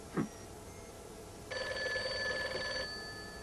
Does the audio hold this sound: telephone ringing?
yes